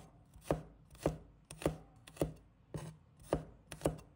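A knife slices garlic cloves on a cutting board in a home kitchen, with seven crisp, evenly spaced chops about half a second apart, close and clear with no talking.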